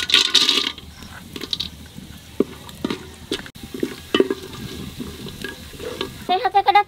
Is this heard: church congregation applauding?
no